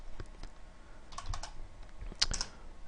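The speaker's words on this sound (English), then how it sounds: "so my typing's a little atrocious here." Typing on a computer keyboard while writing C++ Qt database code, heard as a run of sharp, close key clicks in irregular bursts that briefly speed up into a louder cluster.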